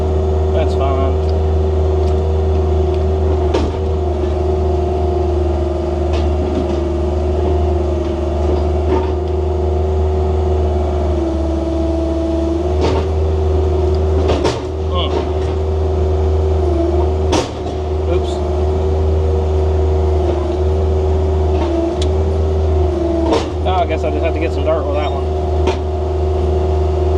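A D6 bulldozer cutting fire breaks runs with a loud, steady diesel drone and low rumble, its pitch dipping under load at intervals, with scattered clanks and knocks from the tracks and blade throughout.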